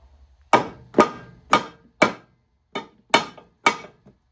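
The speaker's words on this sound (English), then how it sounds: "You get a mallet and try to tap that down." A mallet strikes an aluminum coolant expansion tank part on a Mini Cooper R53 seven times in a fairly even rhythm, each tap sharp and close with a short decay.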